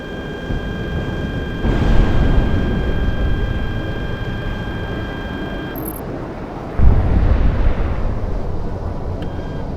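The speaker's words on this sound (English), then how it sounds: "Explosion this close?" Explosion in the combat flight game Project Wingman, a loud broadband rumbling blast that swells partway through over steady jet engine roar and stays heavy to the end.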